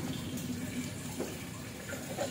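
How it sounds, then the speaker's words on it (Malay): Petronas F700 4T motor oil poured from a one-litre bottle into the engine of a Yamaha Y15 motorcycle during servicing, a soft, steady liquid gurgle and trickle with faint background noise. "Pastikan habis ya, 1 botol minyak ni kita tuang."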